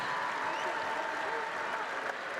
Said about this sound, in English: a nice round of applause for Kyler Edwards